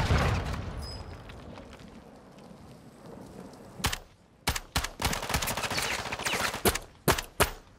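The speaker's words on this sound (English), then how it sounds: "I can't see what I'm shooting at" Shooter video game gunfire, starting with muffled rumbling noise, then a string of sharp, loud shots in quick irregular bursts during the second half, close and punchy.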